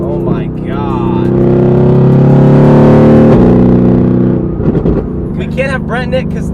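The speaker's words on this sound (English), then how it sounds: "it's funny to hear this engine like how I would probably make it" A Mercedes-AMG GT R fitted with an aftermarket exhaust revs up close and loud, swelling to a sustained roar before dropping away, with a person exclaiming near the start and the end.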